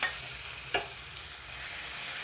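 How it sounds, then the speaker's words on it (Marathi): Finely chopped onion sautéing in oil in a wok (kadhai) for Kolhapuri chicken sukka, a steady close sizzle with a brief stirring scrape partway through and a louder hiss toward the end. "बारीक चिरून हा कांदा तेलात परतून घ्यायचा आहे"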